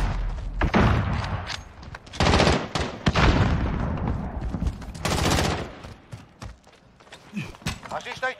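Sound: gunfire in Call of Duty video game

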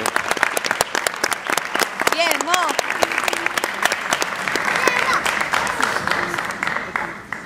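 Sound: applause at a graduation ceremony

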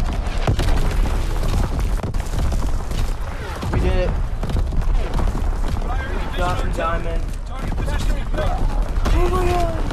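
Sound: artillery battery firing in a video game

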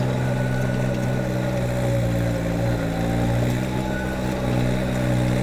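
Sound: Kubota BX subcompact tractor engine working while tilling

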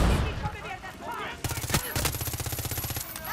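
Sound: gunfire in Far Cry 6 video game

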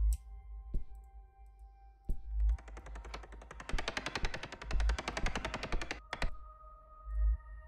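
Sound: gunfire in a video game

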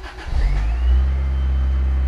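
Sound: Lotus Elan M100 engine starting and revving

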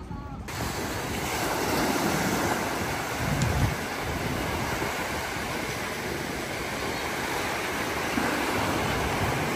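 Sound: ocean waves at Clearwater Beach, Florida

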